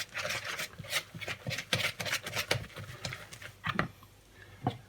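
Whisk beating eggs and flour into a batter in a bowl for toad in the hole: rapid, uneven scraping and tapping strokes against the bowl, close and fairly quiet, with no talking.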